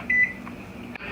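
A kitchen timer being set gives one short, clear electronic beep near the start, followed by a low appliance hum and a soft click.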